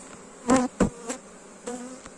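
Honey bees at a beehive in an apiary during honey harvest pass close in short, loud buzzing bursts, with a few quieter buzzes in between.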